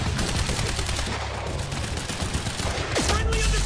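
Dense rapid gunfire in the video game Quantum Break, a loud continuous rattle of shots filling the whole stretch, with a sharper burst near the end.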